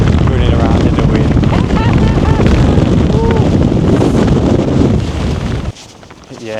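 Strong mountain wind of about 50 mph on the Old Man of Coniston buffets the microphone in a constant roaring rush that eases only near the end.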